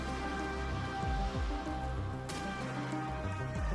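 Steady rain patters on surfaces around a ledge, a dense and constant wash, with sustained tonal music beneath it and no speech.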